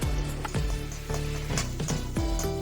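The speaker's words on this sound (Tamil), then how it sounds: "கொஞ்சமாக வெள்ளைப்பூடு பொடியாக நறுக்குனது அது கூட வெங்காயம் பொடியாக நறுக்குனது ரெண்டையுமே போட்டு நல்லா வதக்கிக்கலாம்" Chopped garlic and onions sizzle and crackle steadily in hot oil in a pan, with a few louder stirring clatters breaking in now and then.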